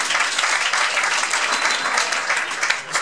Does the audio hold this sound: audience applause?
yes